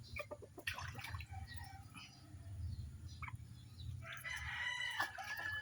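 Chickens, including young pullets, cluck in the background and a rooster crows, under a low steady rumble outdoors.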